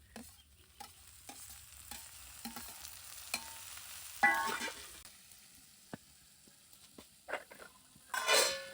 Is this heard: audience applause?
no